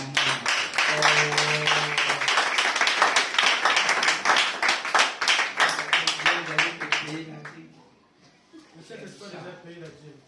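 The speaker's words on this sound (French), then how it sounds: "Acclamez très fort." A church congregation claps loudly in rapid, dense applause with cheering voices for several seconds, then the clapping fades into quieter scattered sound and murmuring.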